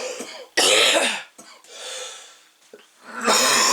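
Several harsh, wet coughs close to the mic, coming in bursts with raspy breathing between them.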